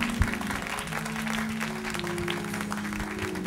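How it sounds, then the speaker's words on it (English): Congregation hand-clapping in praise at a church service, a steady round of applause with sustained organ or keyboard tones underneath. "Let's give the Lord a hand clap of praise"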